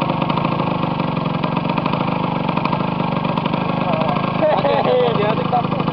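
A motorcycle engine runs steadily nearby with a rough, pulsing drone on a muddy off-road trail, while people talk and shout over it.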